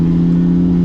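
Lamborghini Gallardo engine with automatic transmission pulling in 6th gear at about 45 mph, a steady, loud mid-range drone held without a downshift, alone with no talk.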